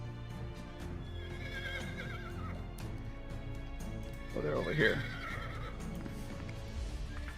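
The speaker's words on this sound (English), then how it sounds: "She says, the horses, the horses." Horses neighing, with a loud whinny near the middle over faint hoof clops and a low steady background hum, while a person speaks briefly.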